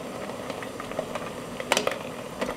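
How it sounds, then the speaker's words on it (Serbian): Vinegar marinade boils in a pot on a stovetop, giving a soft, continuous bubbling with scattered crackles and pops, faint and close with no voices. "Preliv je proključao i sklanjam ga sa šporeta."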